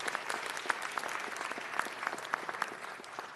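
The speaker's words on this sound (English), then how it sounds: "let's give the city of Los Angeles a big round of applause" Audience applause at a Los Angeles city council meeting, a brief burst of many hands clapping in a dense, steady patter from a crowd, with no speech over it.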